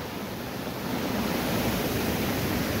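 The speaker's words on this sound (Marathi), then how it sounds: "हे पहा मंडळी किती पाऊस आहे इकडे, आणि पाणी देखील पहा आमच्या इकडून नदीला भरपूर पाणी आहे नदीला" Heavy monsoon rain with a flooded river running high near a bridge, a dense, steady roar of falling rain and rushing water, loud and unbroken, with no voices.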